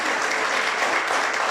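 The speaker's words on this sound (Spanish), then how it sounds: "Le damos un aplauso de bienvenida." Welcoming applause from a church congregation, a steady dense wash of many hands clapping together, loud and continuous throughout with no talk over it.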